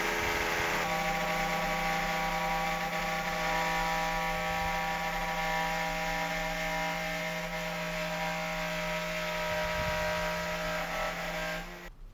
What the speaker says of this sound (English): I'll route out the wood on the inside of the template